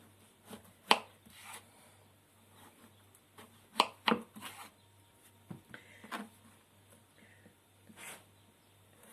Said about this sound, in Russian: Я ничего не делаю, я просто режу, как мне удобно.